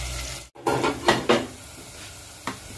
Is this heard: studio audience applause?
no